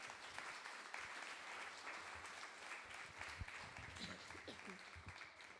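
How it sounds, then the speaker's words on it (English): An audience at a talk on the Bhagavad Gita applauds the speaker with faint, distant, steady clapping, while a few voices murmur underneath toward the end. "let's give another round of applause for him"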